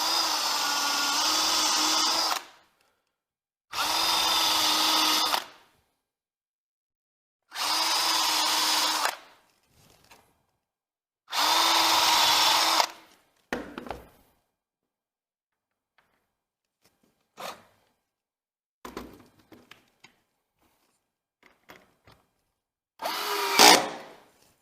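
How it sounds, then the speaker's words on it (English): Cordless drill driver driving small screws into wood, several loud whirring bursts of a couple of seconds each with pauses between, then brief short blips and faint handling sounds in a quiet room. "I'm going to get my drill driver ready."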